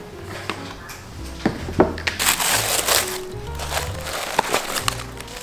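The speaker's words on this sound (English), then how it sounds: "I just got my package in the mail and I'm so excited to open this box" A cardboard mail package box being opened at home, close crinkling, crushing and tearing with sharp cracks and scrapes of cardboard and packaging over several seconds, with no talk.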